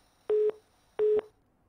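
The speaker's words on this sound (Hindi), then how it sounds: "चलिए फोन डिस्कनेक्ट" A telephone busy tone sounds after a call disconnects, as two identical steady beeps about a quarter second long with a pause between them, clear and alone.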